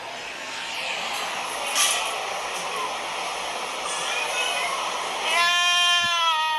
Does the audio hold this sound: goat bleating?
yes